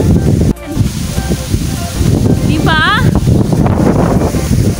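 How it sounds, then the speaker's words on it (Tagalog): Strong coastal wind buffets the microphone with steady broadband roar and rustling coconut palm leaves, while a person speaks briefly over the gusts. "malakas ang hangin pala dito"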